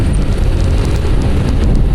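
Strong wind roars steadily, buffeting the microphone with a deep, constant rumble and faint ticking noises above it.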